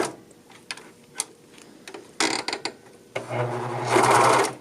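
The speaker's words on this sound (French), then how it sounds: "Je vais commencer à coudre." Sewing machine joining soft fabric pieces for a jacket, starting with scattered clicks and short mechanical bursts, then a sustained close whirring run of stitching toward the end.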